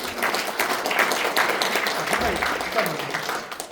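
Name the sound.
audience applause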